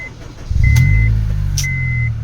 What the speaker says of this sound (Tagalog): pandarin natin ang makina, engine start